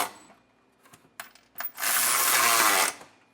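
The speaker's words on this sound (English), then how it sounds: "we can then come back with our 17mm socket and snug them down" A ratchet with a 17mm socket snugs down bolts while a trailer hitch is fitted to a 2023 Hyundai Palisade. A few scattered clicks come first, then a fast, continuous ratcheting burst, close and clear.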